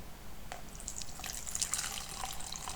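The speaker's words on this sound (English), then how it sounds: "I am going to fill my beaker up with" Room-temperature tap water from a faucet pours into a beaker, filling it with 100 milliliters: a steady, moderately loud splashing and trickling stream that lasts throughout, with no talking.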